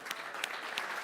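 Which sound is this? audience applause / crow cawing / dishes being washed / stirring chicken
audience applause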